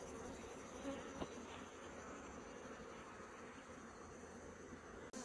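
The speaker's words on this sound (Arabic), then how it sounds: "انظروا إلى خروج النحل في هذه الأوقات" Honeybees leaving traditional hives fill the air with a faint, continuous buzzing drone, close and even throughout, with one small click near the end and no speech.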